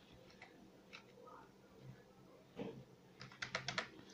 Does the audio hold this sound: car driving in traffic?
no